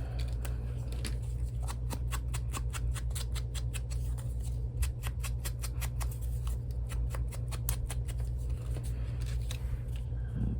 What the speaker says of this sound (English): I'll just make a little diagonal cut, just eyeballing